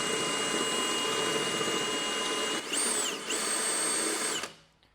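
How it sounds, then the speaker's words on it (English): A drill cutter bores into the car body metal of a 2013 BMW 335i, giving a steady, high-pitched close whine that briefly dips, picks up again and then stops. "then the cutter will start cutting into the metal"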